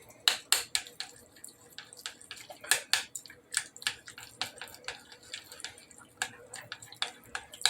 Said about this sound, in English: Then, of course, you stir like crazy.